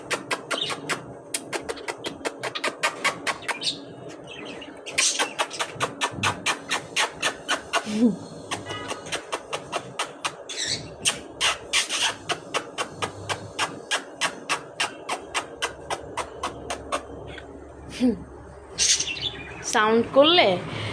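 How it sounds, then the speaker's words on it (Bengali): A pet cockatiel chirps in rapid repeated bursts with sharper squawks, close and fairly loud, while a person talks quietly in the background. "আর এখানে হচ্ছে আমার ককাটেল পাখি, আমার লক্ষ্মী পাখি এটা।"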